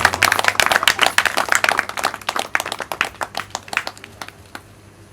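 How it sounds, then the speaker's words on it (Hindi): An audience at a Shrimad Bhagavat Mahapuran katha in Patrapara village, Surajpur, claps loudly to welcome a family, dense applause that gradually thins and fades toward the end. "जोरदार ताली से उनका स्वागत करें"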